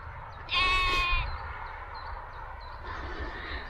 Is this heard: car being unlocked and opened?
no